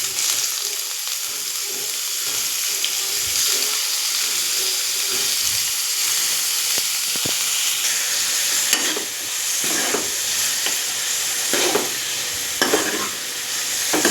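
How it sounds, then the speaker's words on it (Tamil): Onion and curry leaves frying in hot oil in a pan, a continuous loud crackling sizzle close up, with occasional stirring scrapes and pops rising in the later seconds. "இப்போ நம்ம வெங்காயம் போட்டுக்கலாம். வெங்காயம் கூட கறிவேப்பிலை போட்டுக்கலாம்."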